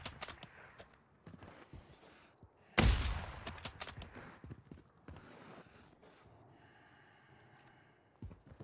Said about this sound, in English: Did you shoot him?